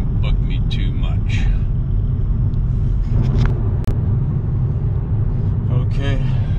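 A car rolls along a smooth road, its low tire and engine rumble steady and close from inside the cabin, with someone talking intermittently over it.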